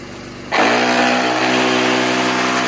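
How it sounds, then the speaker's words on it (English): A cheap ten-year-old electric air pump switches on after a brief quiet moment and inflates a car tire with a loud, steady, buzzing drone that holds unchanged to the end. "This is just a cheap 10-year-old pump."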